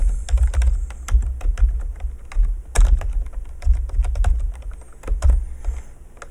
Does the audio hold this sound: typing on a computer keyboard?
yes